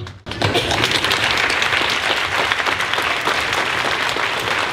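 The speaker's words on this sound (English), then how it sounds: "We can give you a round of applause." Steady, dense applause from an audience at the 2018 Pamlico Community College commencement ceremony, rising after a brief pause and holding loud and continuous to the end.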